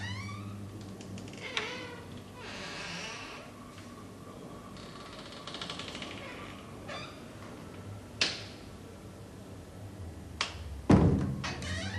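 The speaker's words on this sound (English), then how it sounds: "An inner door, incessantly opening and closing in an annoying way." An inner door in a Brixton flat-turned-gallery, made to open and close repeatedly as a Martin Creed artwork, gives a series of creaks, thumps and knocks at uneven intervals, with a louder thud near the end.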